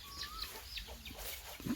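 Chickens clucking and calling on a mature Thai farm garden with bamboo, faint and somewhat distant amid outdoor background noise, with a few scattered bird calls.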